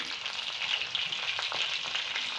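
Garlic frying in hot oil for a dish of amaranth greens, a steady close sizzle with faint crackles running throughout without any talk.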